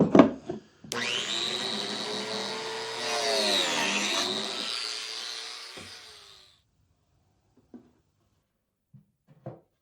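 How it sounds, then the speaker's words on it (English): A biscuit joiner whirs up and cuts a slot into a wooden drawer part, a loud close motor whine lasting about six seconds and winding down, followed by a few light knocks. "I'm going to use my trusty biscuit joiner to cut a slot in both sides"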